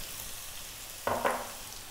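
Ginger, garlic and onions stir-frying over high heat, a low steady sizzle with two brief louder scraping bursts of stirring near the middle, no voices.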